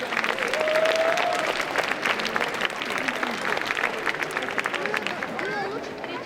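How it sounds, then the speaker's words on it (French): A live audience at a cosplay contest during a Japanese pop culture convention in Troyes applauds a contestant, steady dense clapping filling the room with some crowd noise and a voice over it. "On applaudit encore notre candidat numéro 5."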